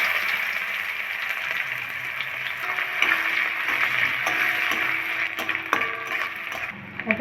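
Onions fry in hot oil with whole cumin, giving a steady, close sizzle with occasional stirring clicks of a utensil in the pan.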